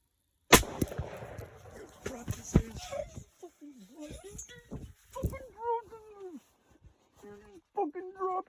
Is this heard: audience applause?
no